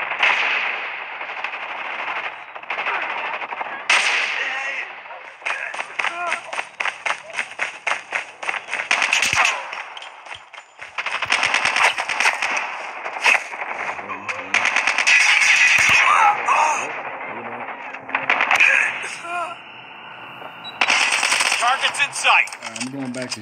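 Gunfire in the Call of Duty video game, with bursts of rapid automatic shots and single cracks recurring throughout, loud and close, mixed with game noise and occasional talking.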